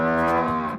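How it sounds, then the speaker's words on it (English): A cartoon cow gives a single loud, close moo in a children's farm animals introduction. It is a rich, drawn-out low call that fades at the end, heard alone. "It's a cow."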